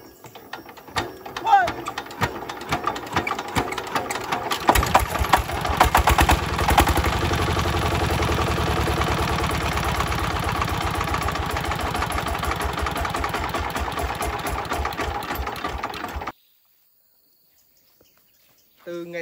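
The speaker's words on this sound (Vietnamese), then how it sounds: "Từ ngày xưa ta thấy cái máy nổ ở đây." Hand-cranked stationary engine starting and running: irregular cranking clatter, then a loud steady chugging idle for several seconds before it cuts off abruptly into silence, with people talking around it.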